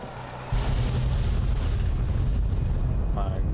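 A large explosion goes off after a shot at Esther, a weapon in Fallout: New Vegas, with a sudden loud boom and then a sustained deep rumble that runs to the end, while brief voice-like sounds come through near the end.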